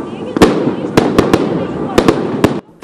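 New Year 2015 fireworks display at the Channel One and Ora News premises in the capital, on a below-zero night: sharp, loud bangs burst irregularly, about eight in under three seconds, over a steady crowd rumble that cuts off at the end.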